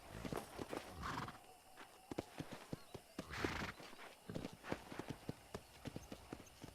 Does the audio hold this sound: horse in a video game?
yes